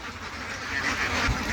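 Young ducks being coaxed out of a pond, with a brief burst of quacking near the end over steady background noise from the water.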